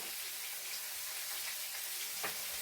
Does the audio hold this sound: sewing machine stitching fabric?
no